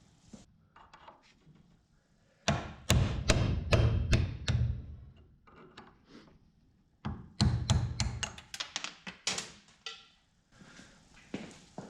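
Sharp metal-on-metal hammer blows drive a woodruff key out of a John Deere GX75 mower deck spindle, two loud bursts of rapid strikes separated by a pause, close and without speech.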